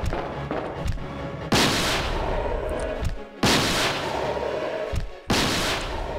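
Three heavy booming shots from the spark shot weapon in the Resident Evil 2 video game, each loud blast followed by a long crackling, rumbling decay.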